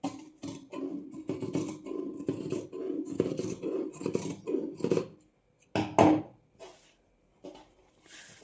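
Scissors snip through salwar pant fabric in a rapid series of close, crisp cuts. After a brief pause there is one louder final snip and a few softer ones.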